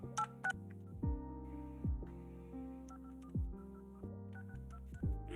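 A telephone being dialed at a traffic court hearing: a quiet series of steady tones, each ending in a short click, with about six presses evenly spaced over several seconds and no talk.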